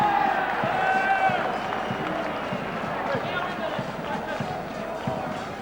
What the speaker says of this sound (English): great reception there from the crowd with Box Hill taking out their premiership